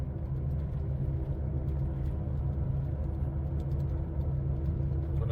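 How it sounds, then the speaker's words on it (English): A steady low rumble and drone from a 2007 Toyota Tundra with a bad front wheel bearing, continuous and fairly loud with no pauses, heard close up. "sounds like with the bearings bad."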